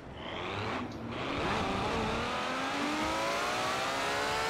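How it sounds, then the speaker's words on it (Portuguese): A car speeding past in Forza Horizon 4, heard as one loud rising and falling engine whine and roar, with faint tyre noise and no talking. "Passou um carro aqui, velho. Voado."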